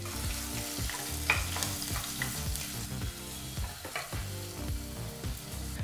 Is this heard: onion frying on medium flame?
yes